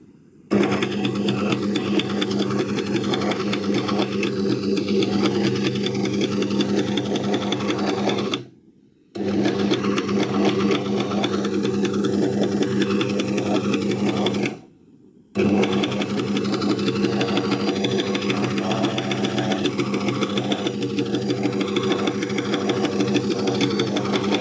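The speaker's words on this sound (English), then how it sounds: "I'm just going to continue sewing." A chain stitch sewing machine fitted with a double fold binder sews in fast, steady mechanical whirring runs, stopping briefly twice before resuming, close and alone without talk.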